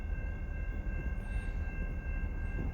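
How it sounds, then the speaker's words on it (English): A distant railroad train approaching on the track gives a steady low rumble with a faint sustained tonal whine above it, continuous and without speech. "where is this other train at that's coming in?"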